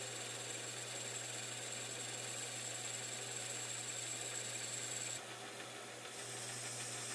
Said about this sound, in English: it's hard to get a small lathe like this running fast enough, because aluminum really loves speed